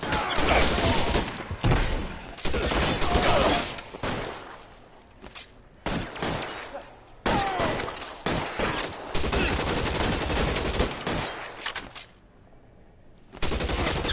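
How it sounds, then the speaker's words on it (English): A Tommy gun fires in the 1940s crime game LA Noire, with loud rapid bursts of automatic fire and crashing impacts coming in repeated volleys separated by short quiet gaps. "Hey, it's Tommy gun."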